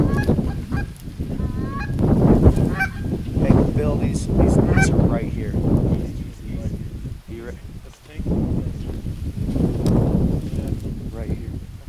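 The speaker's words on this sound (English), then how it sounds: "Oh, there's geese low, but ducks high." Geese honking over open water during a duck hunt, repeated calls near and far throughout, with wind noise and someone talking over them.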